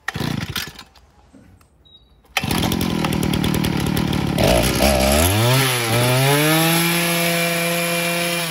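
A motorized brush cutter's small two-stroke engine, its carburetor being adjusted, sputters briefly then roars up to high revs and holds a loud, steady whine with shifting pitch.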